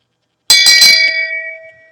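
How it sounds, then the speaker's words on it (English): A single bright bell is struck once and then rings on, its metallic tone decaying and fading to silence within about a second and a half, loud and alone. "The shame bell only rings"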